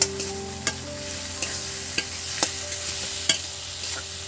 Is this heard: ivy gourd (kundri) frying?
yes